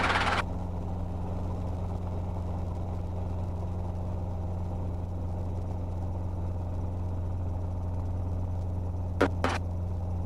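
Training helicopter on its takeoff roll, a steady loud engine and rotor drone with a constant low hum throughout, broken by a couple of brief clicks near the end.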